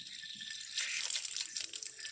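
Water trickles and splashes as it is poured into a pot holding Jamaican cherry cuttings for propagation, a close, bright pour that swells partway through.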